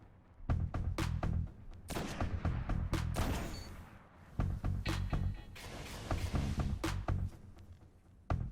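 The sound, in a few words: sniper rifle shots in video game Destiny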